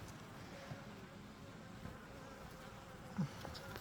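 Faint, steady buzzing of honey bees close by at a hive, a low droning hum with a few brief louder passes.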